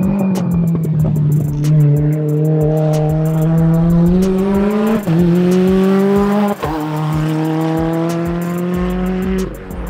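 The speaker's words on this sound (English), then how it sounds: "the car's about to come right now" A drift car passes close with a loud engine drone that rises and shifts in pitch as it revs, accompanied by squealing tires, with no talking.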